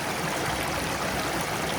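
Water drains and rushes steadily from a scoop of muddy clay being run through a sluice while prospecting for gold in winter, a dense, continuous close-up splashing with no pauses.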